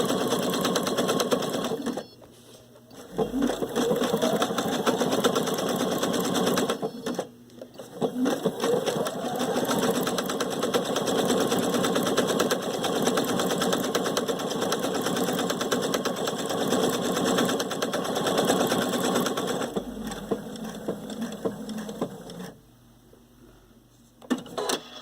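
A Viking Sapphire 930 sewing machine stitches with a braiding foot, running steadily and loud with a constant mechanical whir, stopping in short gaps and restarting several times, with no talk over it.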